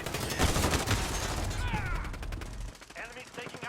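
Dense, overlapping gunfire in a multiplayer shooter played on PS5, with rapid shots from several weapons at a moderate level. A voice speaks over the shooting toward the end.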